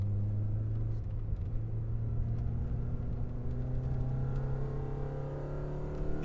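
A Peugeot 205 GTI 1.9 engine drones steadily while driving, with a low rumbling note that rises gently as it revs, heard from inside the car throughout.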